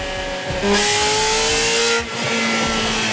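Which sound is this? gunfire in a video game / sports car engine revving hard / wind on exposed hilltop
sports car engine revving hard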